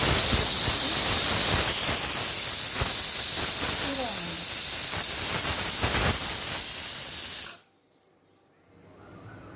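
An electric mixer grinder finely grinding coconut and cumin roars with a loud, steady, harsh whirr for about seven seconds, then cuts off abruptly into near-silence.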